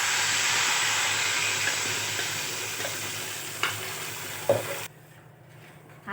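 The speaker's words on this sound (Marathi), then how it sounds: "त्यात आपण आता हा मसाला टाकू" Masala hits hot oil in a wok and sizzles in a loud, steady hiss that slowly fades, with a few utensil clinks, before dropping to near quiet at the end; no one speaks.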